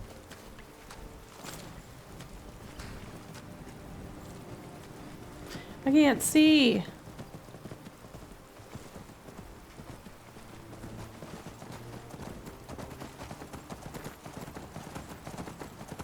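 Horse hooves clip-clopping in the video game Skyrim, a steady soft rhythm of hoofbeats running under casual talk from players, with a brief louder vocal burst midway.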